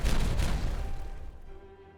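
Fireworks burst in the Timberborn video game, a loud dense crackling boom at the start that thins into a fading rumble with a faint tone lingering over the last second.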